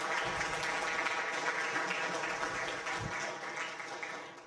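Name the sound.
audience applause for guests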